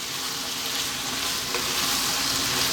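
Macaroni is stirred into a bacon tomato sauce over high heat, a continuous dense sizzle with soft stirring underneath and no talking.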